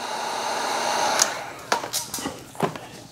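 Heat gun blowing a steady airy hiss while heating vinyl wrap on a Tesla Model Y, followed by a few short taps and handling noises as the film is worked.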